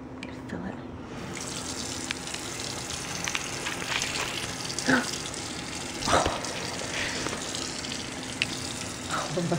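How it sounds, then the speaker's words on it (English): Tap water runs steadily from a faucet into a syringe, a continuous splashing gush with a few sharper spatters, close and fairly loud. "so I'm gonna fill it with water."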